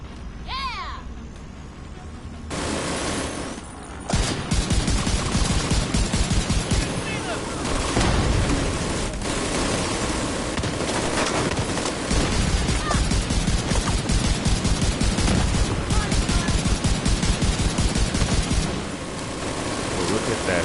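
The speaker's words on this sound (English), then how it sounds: "See how those turrets are just shredding them" Automated turrets in The Division 2 pour sustained, rapid gunfire into enemies. The dense barrage runs almost nonstop for about twenty seconds, with a voice talking over it.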